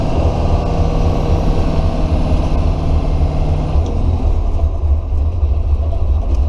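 A 1997 International 3800 school bus engine drones steadily while driving, a loud, deep continuous rumble from inside the cabin with a faint whine above it.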